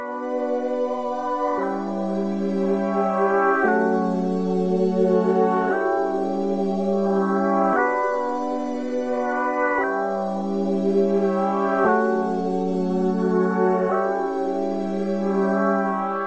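Layered synth pad and strings melody from an R&B beat in FL Studio, with a sustained chord pattern changing every two seconds or so, steady and full for the whole stretch, with no voices.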